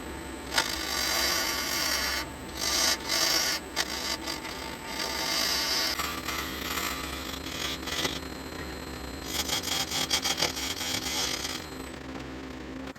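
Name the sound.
wood lathe roughing out a laminated board blank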